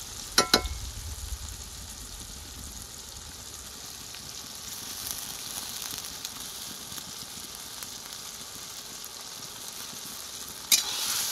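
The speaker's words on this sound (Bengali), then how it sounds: "আদা রসুন পেস্টটা ভালো করে ভেজে নেব।" Ginger garlic paste frying in a pan with tomatoes already cooked down, part of a goat curry, giving a steady close sizzle throughout with a couple of sharp clatters at the start and near the end.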